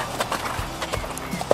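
A horse canters in an arena during a riding lesson, its hooves striking the ground in a quick, uneven rhythm of clopping beats, close by and fairly loud against background noise.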